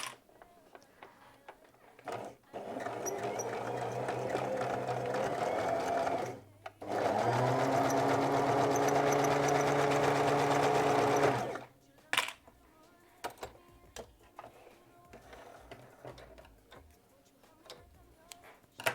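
Sewing machine stitching a seam 1 cm from the fabric edge for a pair of shorts, running steadily in two long passes of several seconds separated by a brief pause, with scattered clicks of handling before and after.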